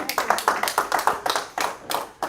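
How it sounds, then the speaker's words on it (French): A church congregation claps together in a steady, rapid rhythm, close and loud, with a few voices faintly under the applause. "Applaudissons pour Jésus."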